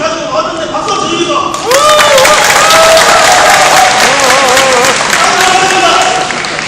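An audience at a public debate forum on attracting a new southern-region airport breaks into loud, sustained applause. The clapping starts after a few seconds of a speaker's amplified voice and continues steadily under a murmuring crowd.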